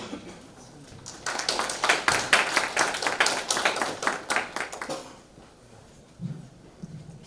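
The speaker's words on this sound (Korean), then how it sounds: "큰 박수로" Audience applause at an ICT industry conference welcoming a speaker, scattered claps building into a brief burst of clapping that fades out after about four seconds into near quiet with a small noise near the end.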